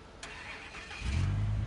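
A Chevrolet truck in the video game SnowRunner starting up: a short click and cranking, then the engine catches into a deep, steady idle rumble close by.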